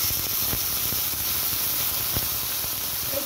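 Ginger-cumin paste hits onion and garlic frying in a pan, giving a steady, even sizzle and hiss with a few faint clicks and taps underneath.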